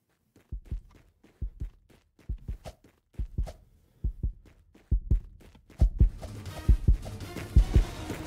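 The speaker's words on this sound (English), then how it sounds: "Heard that heartbeat." Heartbeat sound effect in a 1v1 video game match, a steady run of paired low thumps that grows louder and closer toward the end, alone without talk.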